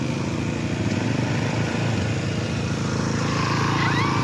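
An ATV ridden through a forest in Laos drones steadily and loudly throughout, with a continuous engine hum and no pauses.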